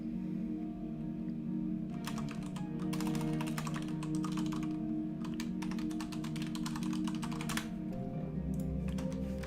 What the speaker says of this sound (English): Typing is so loud, I can't wait to get that other mic